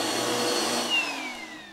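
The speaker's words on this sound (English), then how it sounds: "Vacuum your carpet." A vacuum cleaner running on carpet, a loud, steady close-up whine and roar that holds through the whole stretch and eases slightly at the end.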